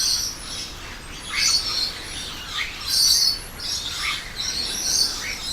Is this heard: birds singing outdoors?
yes